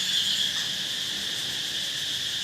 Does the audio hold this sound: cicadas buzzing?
yes